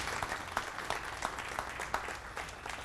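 Audience applause at a Joliet Hall of Pride ceremony: steady, dense clapping from a sizable crowd with sharper bursts of claps standing out, continuing without pause for a few seconds.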